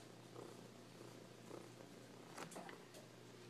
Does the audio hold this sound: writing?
no